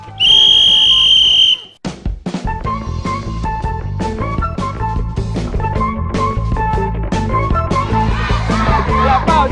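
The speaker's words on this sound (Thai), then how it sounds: "ฟังเสียงนักหวีดเริ่มสัญญาณ" A loud, shrill whistle blast signals the start of a children's word-card matching contest, then cuts off into lively background music with steady beats and bright tones.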